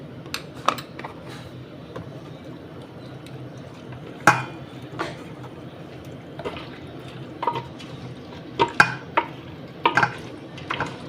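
Chicken being worked together with garlic paste by hand in a bowl, a run of soft wet squelches and clinks, sparse then bunching into quick clusters near the end, close and fairly loud with no talking.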